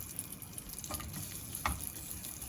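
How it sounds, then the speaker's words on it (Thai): Squid frying in reused oil over moderate heat, a quiet continuous sizzle with a few brief bubbling bursts up close, no talking. "เราก็สามารถเอาปลาหมึกทอดต่อได้เลย นะคะไปทอดทอด"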